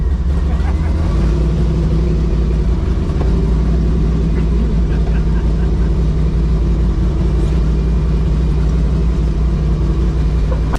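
A 1500hp Chevy S10 truck pulls hard in first gear, a loud, continuous deep engine roar and rumble sustained throughout with no clear breaks.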